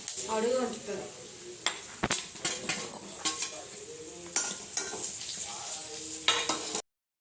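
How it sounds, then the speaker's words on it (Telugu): Dry fruits frying in a steel vessel on the stove for paramannam, with a soft steady sizzle under repeated scraping and clinking strokes of a spoon against the metal, close and fairly clear. "ఇటు side dry dry fruits fry అవుతున్నాయి మనం స్టీల్ వెజిల్లో చేస్తున్నాం కాబట్టి తిప్పుతూ ఉండాలి"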